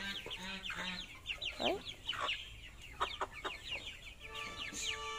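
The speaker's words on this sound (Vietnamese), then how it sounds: "Đây gà chân trâu này." Chân trâu chickens cluck and chirp while being fed caterpillars, a busy run of short close calls with a person speaking briefly among them.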